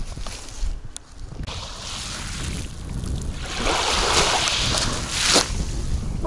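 Sea waves and gusting wind on the Berdyansk Spit beach of the Azov Sea, a continuous rushing wash that swells louder partway through, with wind buffeting the microphone.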